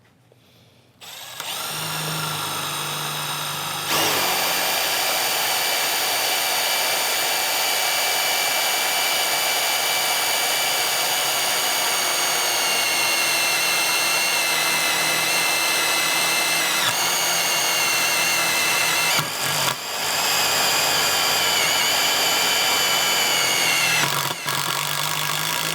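Milwaukee drill bit boring steadily as a power drill runs for a long stretch, loud and close, with a steady high whine that dips briefly a few times as the load changes.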